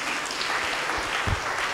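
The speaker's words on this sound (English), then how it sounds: "Give him another clap." A church congregation claps during a Sunday confirmation service, a dense, steady patter of many hands sustained for under two seconds.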